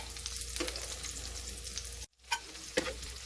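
Onions fry in a hot pan with a steady close sizzle, broken by a few sharp spattering pops and a brief dropout partway through.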